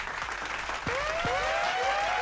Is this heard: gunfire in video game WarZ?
no